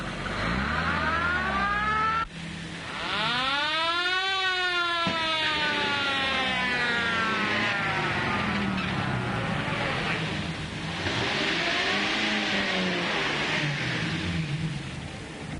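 A getaway car's engine revs and whines in repeated rising and falling sweeps amid a wailing siren-like pitch, loud and close, sounding like a dramatized car chase.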